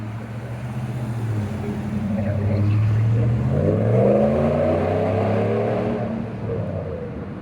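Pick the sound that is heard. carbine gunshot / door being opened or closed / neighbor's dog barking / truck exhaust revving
truck exhaust revving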